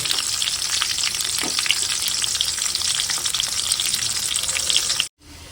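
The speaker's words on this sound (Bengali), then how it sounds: "তো এখন এই যে পেঁয়াজটা দিয়ে দিলাম আর এখন আমি পেঁয়াজটা ভালোভাবে ভেজে নেব" Onions fry in a pan with a loud, steady sizzle and crackle and a few stirring scrapes, broken only by a brief dropout near the end, made while cooking pigeon.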